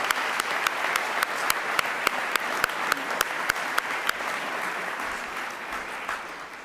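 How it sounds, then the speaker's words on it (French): An audience at the Ordre national du Québec insignia ceremony applauds in a steady, moderately distant patter, with a few sharper claps standing out at a regular pace. "je pense qu'on les applaudit"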